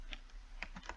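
Typing on a computer keyboard while coding in Python, a short run of separate, fairly quiet keystrokes at an uneven pace, with no talking.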